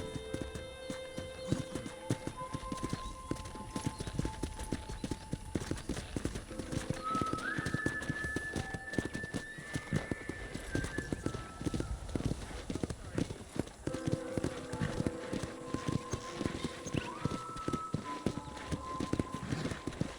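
Horse hooves clip-clop steadily in Red Dead Redemption Remastered, mixed under a continuous music score with melodic lines running throughout and no speech.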